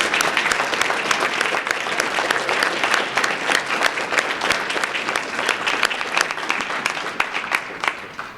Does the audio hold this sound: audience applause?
yes